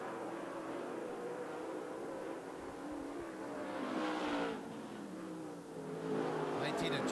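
Late model race cars run single file through a heat race at Canyon Speedway Park, their engines a steady droning roar that swells as cars pass, under continuous announcer commentary.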